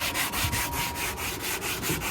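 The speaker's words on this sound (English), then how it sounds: "Sanding. Getting it baby smooth." Sanding paint on an S10 truck: steady, close rhythmic rubbing strokes, roughly four per second, continuous and alone.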